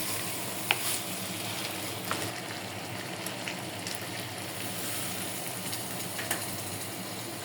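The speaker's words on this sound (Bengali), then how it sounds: "এটা দিয়ে নাড়াচাড়া করে একদম ভাজা ভাজা করে নেব" Boiled beef tripe stirred and fried with spices in a pan gives a steady, soft sizzle throughout, with a few light clinks of the stirring utensil against the pan.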